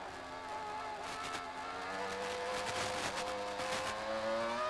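Formula 1 cars in the F1 2000 video game accelerating off the line at a race start, a dense pack of high-pitched engines rising together in pitch, loud and continuous with layered revs and no voices.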